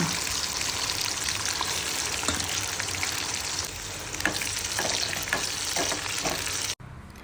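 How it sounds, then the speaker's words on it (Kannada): Garlic sizzles and crackles steadily in a hot pan while frying to golden, with occasional stirring scrapes; the sizzle cuts off abruptly near the end. "ಬೆಳ್ಳುಳ್ಳಿ ಹಾಕ್ಕೊಳ್ಳೋಣ ಸೊ ಇದೆಲ್ಲ ಕ್ಲೀನಾಗಿ ಗೋಲ್ಡನ್ ಕಲರ್ ಬರೋ ತನಕ ನಾವು ಫ್ರೈ ಮಾಡ್ಕೊಳ್ಳೋಣ"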